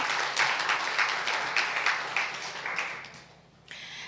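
A church congregation claps to welcome a new member, a steady patter of many hands filling the room before it fades out near the end.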